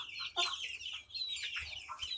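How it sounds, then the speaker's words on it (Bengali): Young chicks, including silky, golden and kadaknath breeds, cheep and peep in quick, high-pitched bursts, close by and fairly faint, with a few short gaps between calls. "সিল্কি মুরগির বাচ্চা, সোনালী মুরগির বাচ্চা, কাদাকনাথের বাচ্চা,"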